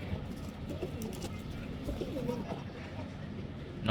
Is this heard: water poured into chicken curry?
no